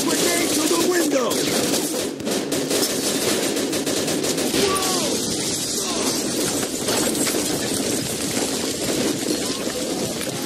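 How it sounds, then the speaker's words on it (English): Sustained machine gun fire roars through a street battle in Mafia II, rapid bursts packed tightly and loud throughout, with shouted game dialogue and other gunshots mixed in. "Looks like we found a machine gun!"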